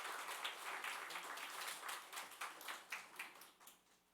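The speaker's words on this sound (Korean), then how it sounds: "잠깐 일어서시면 우리 축하의 박수 한번 하겠습니다" A church congregation claps in celebration during a Sunday worship service, a light, scattered round of applause with uneven individual claps that thins out toward the end.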